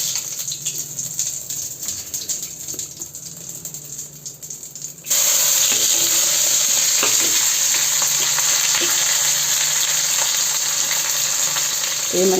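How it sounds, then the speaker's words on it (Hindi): Vegetables tempered with carom seeds, onion and garlic and stirred in an iron wok on a home kitchen stove, a steady loud sizzle and fry that jumps in volume halfway through and runs continuously to the end, with no talking. "ये मैंने सब्जी छौंक दी है"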